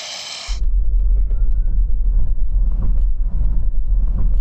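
A Mercedes EQS SUV electric car launching hard from a standstill, a loud low rumble and wind roar starting abruptly after a brief high whine and holding steady, close up.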